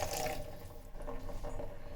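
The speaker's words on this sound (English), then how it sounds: "Now we'll add a little bit of water to this mixture" Water pours into a dragon chicken sauce mixture of ketchup and onions cooking in an electric kettle, a short, close, steady splashing trickle with a faint bubbling sizzle beneath.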